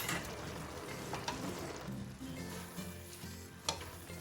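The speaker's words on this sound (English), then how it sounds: "It's now time to add this washed fresh fenugreek leaves." Washed fresh fenugreek leaves going into a hot pan, a close steady sizzle with stirring scrapes and a couple of sharp utensil clinks.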